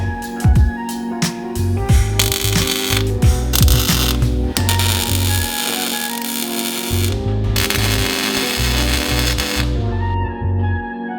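A hand ratchet works loose the battery hardware in a mid-engine Mitsubishi Eclipse project car. Loud, close bursts of rapid clicking repeat on and off with short pauses between strokes.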